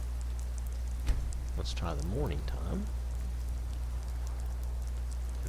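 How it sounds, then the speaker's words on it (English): Steady rain hiss in the Skyrim video game with a winter weather mod runs evenly throughout, while a person talks briefly over it. "It's actually still raining, which is funny."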